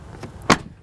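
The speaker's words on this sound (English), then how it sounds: "And then you just shut the door like that." A truck door is swung shut in a single solid thud, close and loud, with a faint softer sound just before it and no talking.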